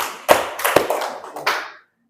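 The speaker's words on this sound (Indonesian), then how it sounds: "Ya, tepuk tangan." Classroom hand clapping during an Islamic ethics lesson, a few scattered claps over about one and a half seconds, fairly close and moderately loud, then silence.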